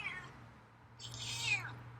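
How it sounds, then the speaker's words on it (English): Two drawn-out meows from a feral cat, the first short and the second louder and rising, over a low steady hum. "Wow, it's a strong meow."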